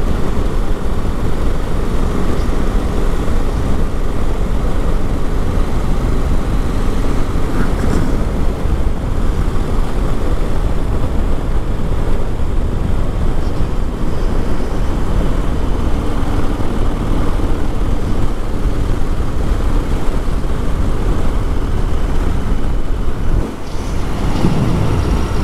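A BMW R1250GS motorcycle engine runs steadily and loudly throughout an everyday ride, with constant wind rush and drone and no break in level.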